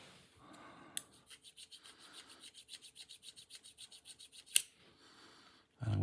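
Filing the black coating off a Tokyo Marui Sig Sauer P226 airsoft pistol slide: about twenty steady, evenly paced rasping strokes, close and fairly quiet, with a sharp knock or two around them.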